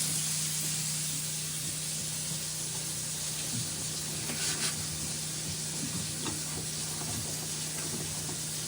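Water draining into a newly installed pantry sink, a steady, even hiss of running water with a faint electrical hum beneath and no talking.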